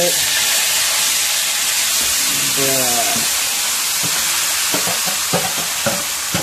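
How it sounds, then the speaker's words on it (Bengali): Marinated chicken drops into hot oil in a home kitchen and fries with a loud, steady sizzling hiss. Scraping stir noises break through, and a voice speaks briefly over the frying. "গরম তেলে এবার ম্যারিনেট করা চিকেনটা দিয়ে দেবো।"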